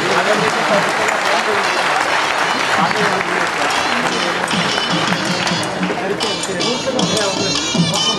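Audience applause at a Telugu cultural festival celebration in North America, honouring a poet: steady, dense clapping from a large crowd that fills the whole stretch at constant loudness, with some chatter mixed in.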